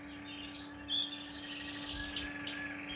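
Canaries in a breeding cage give scattered high chirps and short tweets, fairly faint, over a constant low hum, with no talk.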